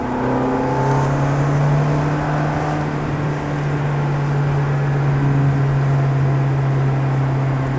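Ferrari F430 engine at full throttle on a racetrack during a driving course, a loud, steady, close engine drone that holds for several seconds with no voices.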